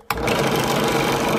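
A drill press drills a hole, starting abruptly and running as a steady, loud, dense mechanical whir for the rest of the short stretch, with no voices.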